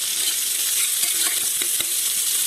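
Chopped onion frying in ghee gives a loud, close, unbroken sizzle, with a few soft clicks and scrapes as the pan is stirred, and no talking.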